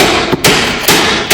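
Loud, sharp hammer blows on a stuck bolt under a Datsun 620 pickup truck, three heavy metallic strikes spaced roughly half a second apart, close by with no talking.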